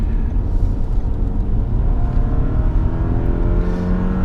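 A 2018 Toyota Camry SE engine is held at high RPM, a loud sustained rev with a rising, strained whine over a deep rumble, heard continuously and close up.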